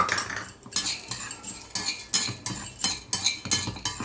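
Peanuts fried in a pan for a Telangana-style peanut and sesame chutney, stirred briskly with a metal utensil: repeated loud scraping and clinking strokes against the pan, steady and rhythmic, with no voices.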